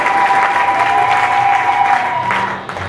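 A church congregation claps together during a Sunday service, a full, even burst of applause with a sustained tonal hum beneath, fading slightly toward the end.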